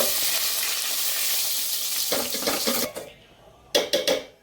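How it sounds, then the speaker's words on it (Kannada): Garlic sizzling in hot oil with cumin and curry leaves in a pan for a mushroom curry, a steady close hiss broken by a few bursts of stirring and scraping near the end. "ಬೆಳ್ಳುಳ್ಳಿ ಸ್ವಲ್ಪ ಫ್ರೈ ಮಾಡೋಣ"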